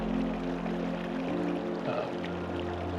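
Water flowing along a tiny creek during fly fishing, a steady close rushing and pouring wash that holds level throughout with no voices.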